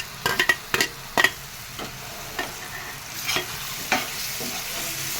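Tomatoes, green chillies and curry leaves cook in a pan with a steady frying sizzle, broken by several sharp spoon scrapes and stirring clicks near the start and a few more later, close and alone.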